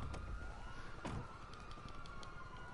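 A police car siren in the video game GTA V wails steadily and loudly throughout, with a sweeping rising and falling tone over constant traffic-like background noise.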